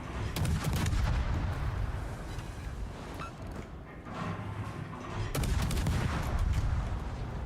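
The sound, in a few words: warship secondary battery guns firing in a video game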